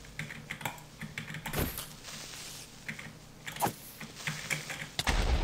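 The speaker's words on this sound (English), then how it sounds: "You can hear this keyboard tapping." Rapid typing on a computer keyboard during a Minecraft survival session, with uneven bursts of clicky keystrokes and a few sharper clacks, fairly close and faint, alone without talk.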